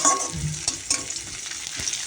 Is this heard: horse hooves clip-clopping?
no